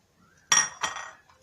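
A spoon stirs Egyptian mahshi rice mixed with coriander, parsley and dill in a pot, giving two close, quick metallic scrapes and clinks against the pot over a quiet background.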